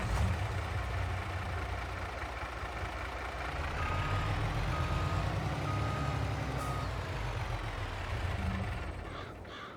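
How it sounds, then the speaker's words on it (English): A lorry in the video game Farming Simulator 22 reverses with steady beeping warning tones over a low idling engine rumble, continuous and moderately loud, with no talking. "Let's move the lorry out of the way."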